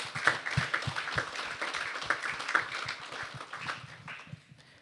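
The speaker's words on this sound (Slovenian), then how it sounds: "En velik aplavz, lepo prosim za današnje." An audience at a panel discussion claps at its close, a moderate round of applause with distinct sharp claps fading out toward the end, heard alone without talk.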